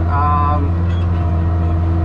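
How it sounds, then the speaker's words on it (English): A Case IH Maxxum 5250 tractor, recently repaired, idles with a steady low engine drone and strong humming tones, with a brief higher whine near the start. "I've been working the tractor for probably 15-20 minutes so far"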